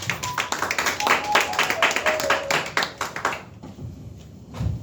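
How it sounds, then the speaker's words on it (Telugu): A worship congregation claps together in a quick, even rhythm for a few seconds, the clapping thinning out toward the end while voices carry beneath it. "చప్పట్లు కొడుతూ ఒకసారి దైవజనులు"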